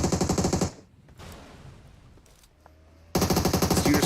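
Two loud bursts of rapid automatic gunfire in the battle-royale game BGMI during a competitive esports match, one opening and one closing, separated by a quieter gap of distant ambience and faint shots.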